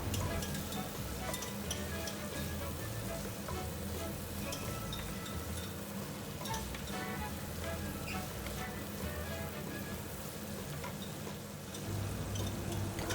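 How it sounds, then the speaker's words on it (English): Young ginger slices stir-frying with chilies for a Sichuan mala chicken hot pot, a steady crackling sizzle in a hot wok with faint scraping, continuous and close. "Add in the slices of young ginger to stir fry together."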